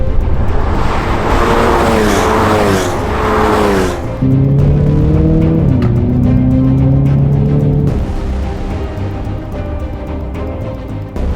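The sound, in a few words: 2022 Hyundai Elantra N driven on race track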